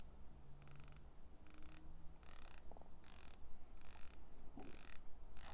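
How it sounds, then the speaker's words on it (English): A bronze-bezeled San Martin diver watch's 120-click unidirectional bezel ratchets in seven evenly spaced bursts of crisp metallic clicking, close to the microphone. A steady low hum runs underneath, and no one speaks. "120 click unidirectional bezel. I'll let you take a listen."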